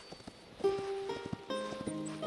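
Soft, regular hoof clops of a horse in the video game Hytale trot along under sustained musical tones and chimes, a steady game-like gait at moderate volume.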